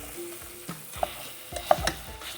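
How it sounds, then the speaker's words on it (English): Sausage browning in a hot pan for sausage gravy gives a faint, low sizzle with a few sharp scrapes and clicks of stirring scattered through it. "So we are going to want to brown our sausage."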